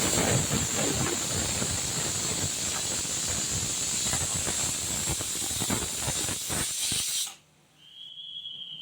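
Loud, steady hiss of steam escaping from a pressure cooker, continuous for several seconds before cutting off abruptly, leaving a faint high whine.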